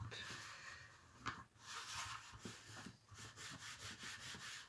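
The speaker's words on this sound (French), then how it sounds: "On essuie tout de suite." A cloth rubs and wipes away excess glue during bookbinding of a handmade paper mini album, close, soft scrubbing strokes in an uneven rhythm with brief pauses.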